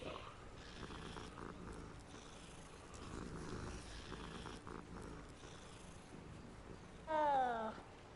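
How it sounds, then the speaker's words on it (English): A cat purring in Hogwarts Legacy, a soft steady rumble running under the game's ambience, followed near the end by a short louder meow. "Fucking cat."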